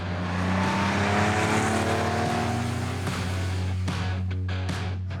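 A Porsche 911 German sports car engine roars loud and close with steady harmonic drone, rising in pitch through acceleration before breaking into shifting revs near the end.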